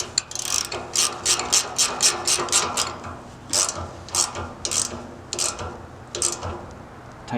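A wrench tightens a 5/8 fitting on an oil tank and furnace line, giving a series of quick metallic ratcheting clicks in short bursts with brief pauses, close and fairly crisp, with no talk.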